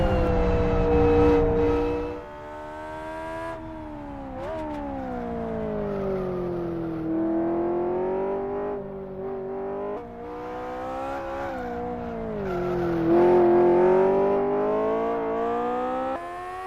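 Modded race car engine in the racing game Live for Speed, a steady, loud tonal drone that rises and falls in pitch as the car accelerates and shifts through corners, heard alone.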